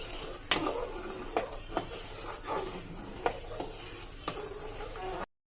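Rice-flour batter being stirred nonstop in a pan for patishapta pitha filling, a faint steady hiss with a handful of sharp spoon clicks against the pan at irregular intervals.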